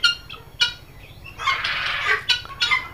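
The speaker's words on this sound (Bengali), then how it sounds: "দেখতেই পাচ্ছেন আমার তিথি মুরগিগুলা" Chickens on a poultry farm cluck and squawk nearby in several short, loud bursts, with a longer noisy stretch of overlapping calls in the middle.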